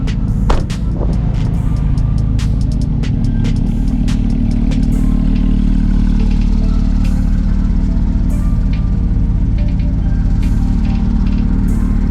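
A Subaru WRX drives with a loud, steady engine and exhaust drone, scattered with sharp crackling pops and clicks throughout, near and without talk.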